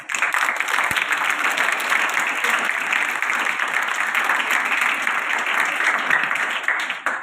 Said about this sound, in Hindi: हमारे सदैव श्री वासुदेव परदेसी जी, वो भी हमारे बीच में तालियां बजाएं